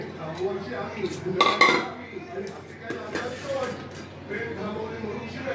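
Prawns are mixed by hand with cornflour, rice flour and fish masala in a metal bowl, bringing irregular clinks and scrapes of utensil against the dish close by while someone talks over it.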